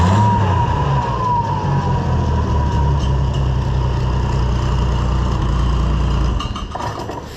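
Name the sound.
car engine running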